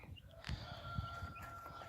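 Young chickens, called diddles, in a salt house cluck softly and sporadically: a few faint, short calls over a quiet background hum.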